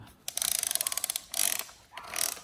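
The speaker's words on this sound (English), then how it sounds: "You should be able to hear it click." Drive wheel on a 20-year-old Newgy table tennis robot being tightened, a rapid run of ratcheting clicks up close, followed by two short smoother whirring turns, with no speech.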